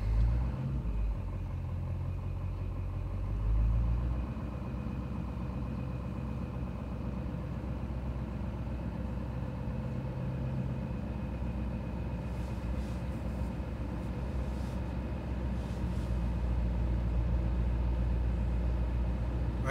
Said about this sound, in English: I'm gonna start the truck and let it warm up.